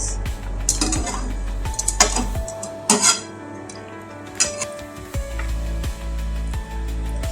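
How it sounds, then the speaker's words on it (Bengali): Potol dorma, stuffed pointed gourd, stirred in a pan with a spatula, giving scattered scraping clinks and knocks of metal on the pan over a steady low hum, close and moderately loud. "এটাকে আমি একটুখানি ঘেঁটে দিচ্ছি"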